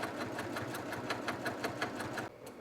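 Brother PQ 1500 multi-needle machine sewing quilt binding, a fast rhythmic stitching chatter with evenly spaced needle strokes, steady and fairly close, that cuts off abruptly near the end.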